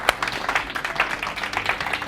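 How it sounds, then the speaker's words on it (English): Audience applause at a mindset masterclass demonstration, a dense, steady patter of many hands clapping throughout, moderately loud with no voices over it. "Round of applause"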